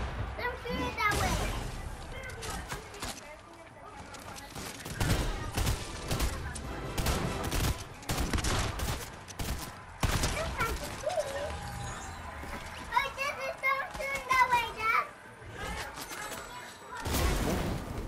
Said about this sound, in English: they're shooting this way